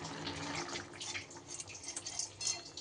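Red lentils are swished and rinsed in water by hand, a close, steady sloshing and dripping with soft splashes, continuous and moderately quiet, with no talking.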